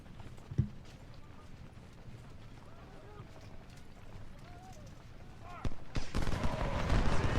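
Battle gunfire in the Civil War strategy game Ultimate General: Civil War, scattered distant rifle pops under a steady rumble that swells into louder, denser volleys near the end, with someone talking over it.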